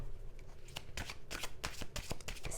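Tarot cards being shuffled in a series of quick papery riffles and soft slaps, close and fairly quiet, with no talking.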